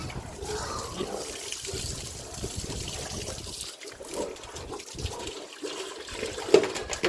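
Water splashes from a pipe onto pigs on a hot day, a steady trickling and dribbling stream with uneven bursts that grows briefly louder near the end.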